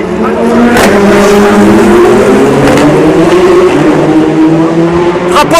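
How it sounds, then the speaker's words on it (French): An Audi prototype race car at the Le Mans 24 Hours roars past loudly, its engine note climbing steadily over several seconds and holding a sustained, close, high-revving whine throughout. "Il y a l'Audi qui est en train de passer."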